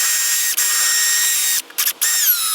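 Power drill boring a hole sized for 6-inch-long bolts while framing a backyard swing set, a steady high-pitched whine running almost continuously with two brief stops near the end, loud and close, no talking.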